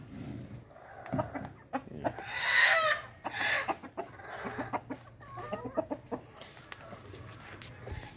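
A flock of backyard chickens clucks and squawks at feeding time, with several loud, close calls early on and then busier, softer clucking from many birds.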